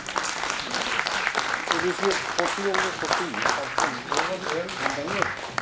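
Clapping from an audience at a leadership summit and awards event, moderately loud and uneven, with people talking and murmuring over it throughout.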